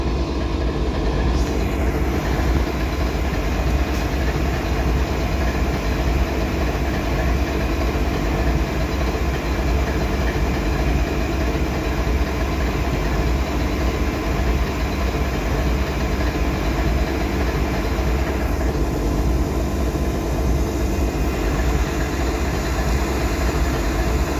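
A diesel switcher locomotive idles while being fueled, a loud, steady engine drone with a constant rumble that continues unbroken, no voices heard.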